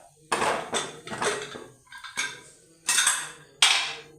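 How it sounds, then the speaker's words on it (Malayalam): A pressure cooker handled while making sambar, a series of six loud, close metallic clanks and scrapes of the pot knocking against other cookware, each ringing briefly before the next, with no talking. "നമുക്ക് കുക്കർ എടുത്ത് വെക്കാം"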